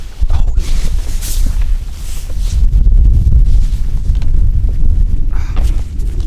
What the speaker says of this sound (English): Excuse the wind.